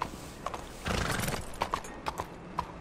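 Hooves of a black Arabian horse in Red Dead Redemption 2 clip-clop in an uneven, spaced rhythm, with a burst of snorting or whinnying from the horse partway through; no one speaks.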